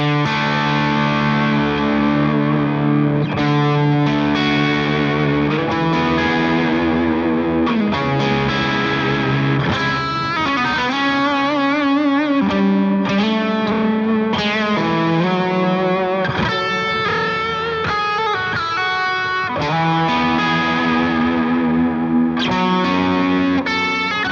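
A heavily distorted Music Man John Petrucci Majesty Monarchy electric guitar, high gain blended with piezo, plays sustained chords and riffs with a bright, slightly acoustic edge, loud and continuous throughout.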